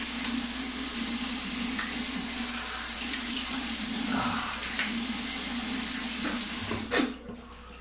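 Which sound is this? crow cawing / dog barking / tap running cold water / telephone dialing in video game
tap running cold water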